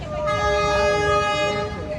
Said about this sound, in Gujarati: આપણે ટ્રેનની રાહ જોતા, ટ્રેન આવી ગયું હવે